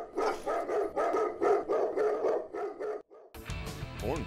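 Dogs bark in a quick rhythmic series of about eight loud, close barks with brief gaps, then music starts after a short pause.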